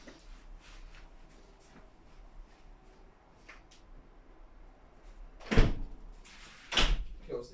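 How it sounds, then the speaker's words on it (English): Indoor door closed twice in succession, each a solid thud with a latch click, separated by a short pause and preceded by faint shuffling and handling noises; no speech. "Wait, I'm gonna close my door because my door is open."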